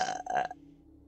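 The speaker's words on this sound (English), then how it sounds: "Burp." A single loud burp lasting about half a second, voiced and tonal with a drawn-out middle, recorded up close during a Dead Rising 2 gaming session, then fading into quiet room hum.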